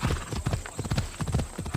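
Horse hooves clip-clopping in the video game Assassin's Creed Odyssey, a steady rhythmic trot of close, clear hoof strikes with no talking.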